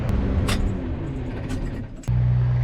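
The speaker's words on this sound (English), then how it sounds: "get in the car and head down to the sprayer" A car drives along a farm road with a steady low engine drone and road rumble, briefly dipping before a louder, fuller engine tone takes over near the end, with no talking.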